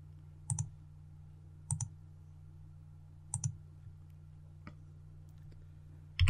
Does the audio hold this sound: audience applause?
no